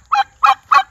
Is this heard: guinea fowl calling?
yes